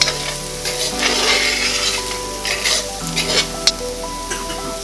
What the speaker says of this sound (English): Give everything a nice stir and then allow it to cook until the mushrooms begin to break down.